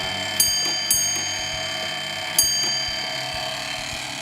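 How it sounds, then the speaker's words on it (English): A fire alarm box number struck out on a bell, with a few sharp metallic rings at irregular intervals that ring out and decay slowly over a steady hum. "In this case, it's box number 921, so it'll ring 9 times, 2 times, and then 1 time."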